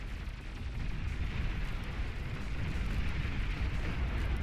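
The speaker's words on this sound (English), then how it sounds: "Long range plasma cannon now focusing on the advanced geothermal." Long range plasma cannon fire in the strategy game Beyond All Reason, a dense continuous rumble of booming impacts and blasts, loud and unbroken throughout.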